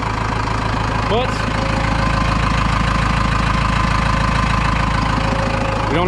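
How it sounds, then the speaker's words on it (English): A Cummins 4BT diesel with advanced timing, installed in a Tahoe, idles loudly with a rapid, steady knock under its rumble. Someone speaks briefly over the engine. "knock to it, which is to be expected when the timing's ramped up"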